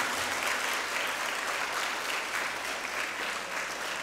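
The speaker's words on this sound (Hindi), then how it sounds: "ज़ोरदार तालियाँ बजाइए।" Loud, sustained applause from a church congregation at a Sacrament of Confirmation, a dense steady clapping that fills the whole stretch without a break.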